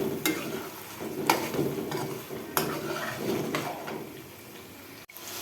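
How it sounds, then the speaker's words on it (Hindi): Potatoes and besan tangri fry in hot oil as a spoon stirs them in the pan, with a steady close sizzle, spoon scrapes against the pan around each second, and a brief clink near the end. "शामिल करने के बाद इसको थोड़ा सा भूनूँगी"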